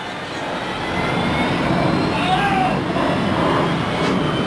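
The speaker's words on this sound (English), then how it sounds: "Plane taking off there." A jet airplane taking off near Jeju City, a broad roaring engine wash that swells and holds, heard from a distance with faint speech-like murmurs.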